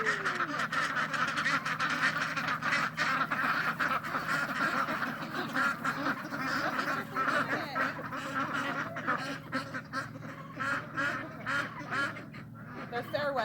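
Ducks or geese on a homestead calling outside, a continuous busy chatter of quacks and honks from a flock nearby, steady and moderately loud throughout.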